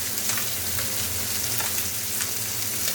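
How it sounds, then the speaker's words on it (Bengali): Mustard oil sizzles steadily in a hot pan (kadai) while cooking bharta dishes, a continuous bright frying hiss with no talk. "কড়াই গরম হয়ে গেছে, দিয়ে দেবো সরিষার তেল"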